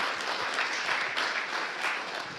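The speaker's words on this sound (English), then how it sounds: "Go ahead, clap." An audience at a public talk on community safety breaks into steady, dense applause that fills the room at an even level for the whole stretch, with no voice over it.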